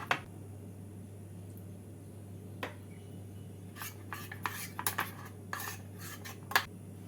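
A utensil scrapes and clinks against a bowl while flour and water are stirred into batter, soft rubbing strokes with sharper clicks near the end, close and fairly quiet over a low steady hum.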